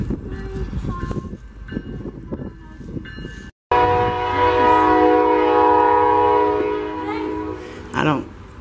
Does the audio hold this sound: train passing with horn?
yes